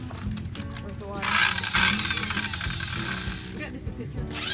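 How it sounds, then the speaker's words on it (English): A power drill whirs up and runs for a couple of seconds with a rising whine, then spins up again briefly while mixing for tiling a shower, as people talk nearby. "standing by with the drill, ready to mix."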